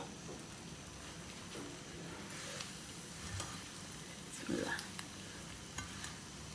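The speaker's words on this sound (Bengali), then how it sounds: "এখন কিছু ধনিয়া কুচি পরে আদা স্লাইস আর একটু কাঁচামরিচ এটা দিয়ে একটু মিক্স করে নেব" Coriander, ginger slices and green chili being stirred into a pan of Pakistani Balochi tikka, with faint scraping strokes and a low sizzle over a soft steady hiss.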